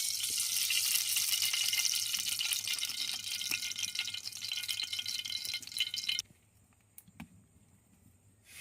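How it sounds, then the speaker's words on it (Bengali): Hot oil sizzling and crackling loudly in a heated karai, a steady hiss that cuts off abruptly around six seconds, leaving faint kitchen clicks. "এখন তেল দিয়ে দেব।"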